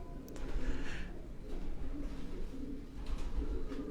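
Pigeons of a high-flying pedigree breed from Quetta cooing nearby, low soft coos repeating in a slow rhythm over a steady background hum, with no voices.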